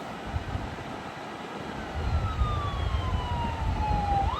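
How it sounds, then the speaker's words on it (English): An ambulance siren wails behind a moving car, its pitch sweeping steadily and gradually shifting as it draws near, heard clearly over road rumble with no talk. "There's an ambulance behind me."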